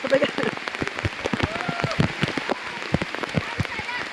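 Rain spatters and patters on a surface nearby in irregular sharp drops on a hike to Kayangan Lake, Coron, Palawan, with faint voices in the background.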